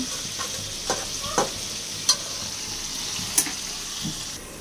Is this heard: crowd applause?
no